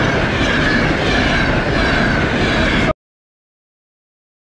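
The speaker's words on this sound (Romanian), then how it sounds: "Atențiune că vine trenul." A train rolling past a dirt bike park, loud and close, with a continuous rumbling roar and clattering wheels for about three seconds before cutting off to silence.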